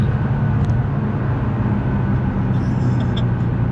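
A Nissan GTR with new injectors and a stage 3 tune pulls in 4th gear at half throttle from about 3,000 rpm, a steady loud engine drone with heavy low rumble from inside the cabin.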